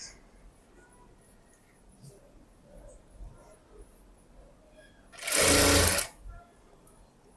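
A sewing machine stitches a blouse in one short, loud run of fast, buzzing stitching lasting about a second, surrounded by near silence.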